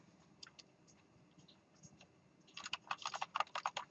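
A computer keyboard during a programming lecture: quiet scattered taps, then a quick burst of close, dense typing in the last second and a half, with no talking.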